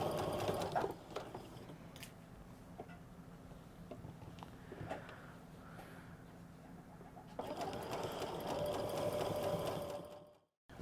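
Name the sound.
sewing machine stitching a skirt hem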